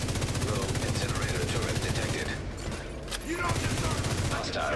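Rapid, steady automatic fire from a rogue incinerator turret in a video game, a dense rattling stream that briefly thins out midway before resuming at full loudness, with game noise underneath.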